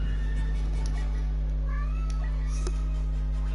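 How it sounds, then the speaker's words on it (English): A pet cat meows in a few short, faint calls over a loud steady electrical hum and background noise in a room. "My cat is still bothering me."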